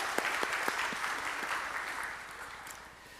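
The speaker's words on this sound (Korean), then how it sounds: "우리 다시 한번 큰 박수로 축복합시다." A church congregation claps during a Sunday worship service, a soft, distant, steady wash of applause with a few sharper claps early on, fading slightly toward the end.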